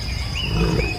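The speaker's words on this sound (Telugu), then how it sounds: "ఆకస్మికంగా గర్జన వినిపిస్తుంది" A lion roars in a cartoon, one loud, close, rough growling roar that fills the entire short moment.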